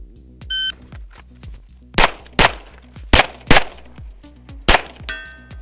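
Shot timer beep on an outdoor pistol range followed by a string of sharp, loud handgun shots at irregular intervals, with ringing steel-target clangs and a second electronic beep near the end; no talking.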